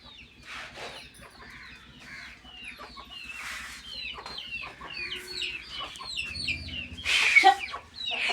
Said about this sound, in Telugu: కోళ్ళు చూడండి ఫ్రెండ్స్, కోళ్ళు